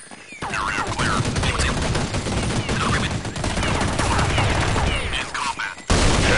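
Dense, continuous automatic gunfire in a Counter-Strike-style team deathmatch, with overlapping bursts of rapid shots at steady loudness throughout and a brief break near the end before firing resumes.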